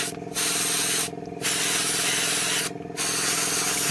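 Airbrush or spray gun hissing steadily as it coats the inside of a Tamiya 1/12 Yamaha YZR-M1 model bike body, broken by three brief pauses where the spray stops and restarts.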